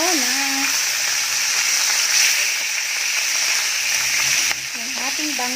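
Milkfish (bangus) browning in a pan for adobong bangus, with loud, continuous hissing oil spatter close up while a person talks at the start and end.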